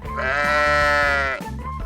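A sheep gives one long, loud, wavering bleat close by, which tails off into a lower, rougher bleat at the end.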